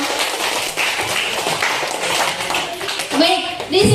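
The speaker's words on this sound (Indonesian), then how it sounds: "tepuk tangan dulu dong." Schoolchildren in a classroom clapping together, a loud continuous patter of hands over several seconds, with voices mixed in toward the end.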